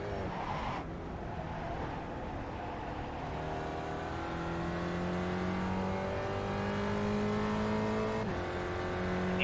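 Engine of the Gen3 Spec Racer Ford race car in the iRacing simulator, revving and climbing through the gears with rising whine, a short upshift dip near the end, steady and close, no talking.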